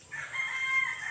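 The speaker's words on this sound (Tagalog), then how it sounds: "Yung manok at saka baboy, oh." A rooster on a small farm gives one brief, moderately distant crow lasting about a second, with faint background noise and no talking.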